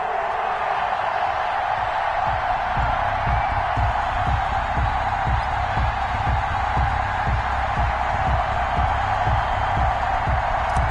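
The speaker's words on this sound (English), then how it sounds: "This crowd is ready as their guys get set to match up" Stadium crowd in a PS4 football video game at Arrowhead, Kansas City Chiefs against Houston, a steady roaring wash of cheering with a rhythmic thumping pulse beneath it, constant and loud.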